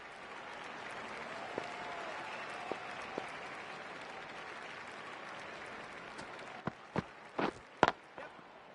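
A cricket crowd at a Twenty20 final between Australia and New Zealand applauds a batsman's century, a steady wash of clapping from a large stadium with a few sharper claps and knocks standing out near the end.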